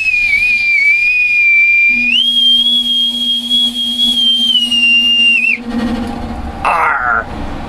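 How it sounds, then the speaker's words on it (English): A bosun's whistle blown in long sustained shrill tones, first steady, then stepping up higher, then briefly warbling, close and loud over a low humming furnace. "with my authentic bosun's whistle"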